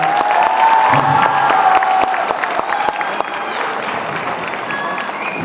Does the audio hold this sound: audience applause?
yes